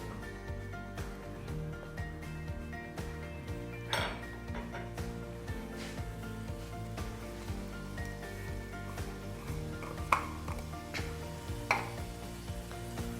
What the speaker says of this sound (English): You mix here the beans with the tomato and the onion, and you put some salt and black pepper.